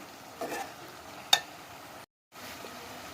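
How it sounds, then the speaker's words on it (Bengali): Onions sautéing in a pan over a gas flame, a soft steady sizzle with a brief stir, one sharp utensil clink, then a short gap before the low frying hiss resumes. "এভাবে পেঁয়াজটা আমি ভালো করে কষিয়ে নিচ্ছি"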